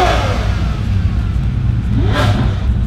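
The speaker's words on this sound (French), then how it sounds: "Une F40 en drift derrière une Regera." Ferrari F40 drifting behind a Koenigsegg Regera: a loud, close, steady engine roar with heavy low rumble throughout and a brief rising whoosh of a car passing near the end.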